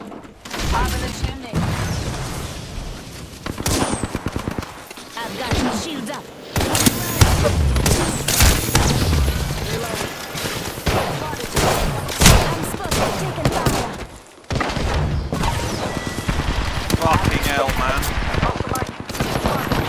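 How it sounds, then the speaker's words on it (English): Apex Legends gunfire, dense bursts of automatic shots and single reports packed close together across the whole span, loud and continuous apart from a couple of brief pauses, with a voice talking over the firing. "Shots fired."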